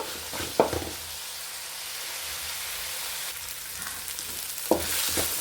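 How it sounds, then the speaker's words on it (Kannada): Steady frying sizzle while cooking palak rice, a soft continuous crackle with a couple of sharper clinks or stirring knocks near the start and end. "ಒಂದು ಎರಡು ಐದು ನಿಮಿಷ ಫ್ರೈ ಆಗಬೇಕು"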